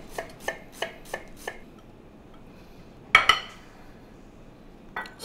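A knife chopping onion on a board: five quick, even thumps in a row, a pause, then a louder double knock and one last chop, close and dry with no talking.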